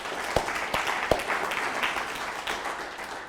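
Conference audience at a marijuana policy event applauds a speaker, a thin scattered clapping with a few distinct sharp claps near the front.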